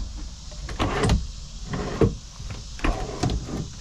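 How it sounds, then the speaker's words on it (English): Pull-out storage doors on the back of a Lance 1191 truck camper slide and thump three or four times in a row, close and fairly loud. "Pull out doors."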